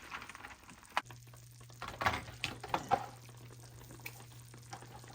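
Quail eggs and okra cooking in a pan make a soft sizzle with scattered stirring scrapes and light clatter, fairly quiet and close with no talking.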